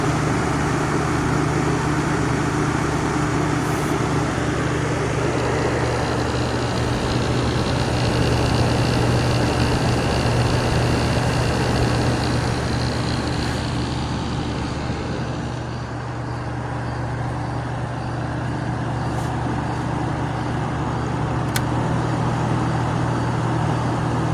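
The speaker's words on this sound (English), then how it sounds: "Just that compressor sound." Compressor of a 1983 General Electric Carry Cool air conditioner running outdoors, a steady, even low hum with a broad airy whir, constant and close throughout with no talk.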